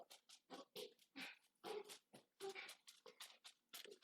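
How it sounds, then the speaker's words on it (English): A puppy whining and whimpering indoors in a quick series of short, high, close cries with small gaps between them, faint in level. "Puppy, you need to settle down. No, you really do, Skittles. That's enough. Be quiet."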